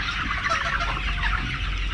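A flock of 45-day-old chickens clucking and chattering continuously at close range, a dense, steady mix of overlapping calls with no voices over it.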